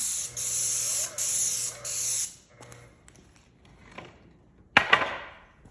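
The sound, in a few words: paint sprayer spraying paint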